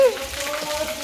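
Rain falling on someone standing out in it, a steady soft hiss of drops with a tonal voice-like sound laid over it.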